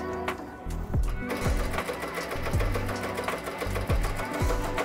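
An embroidery machine stitches a monogram onto a duffel bag at 500 stitches per minute, a close, busy mechanical chatter with a rhythmic thump roughly every second, steady throughout.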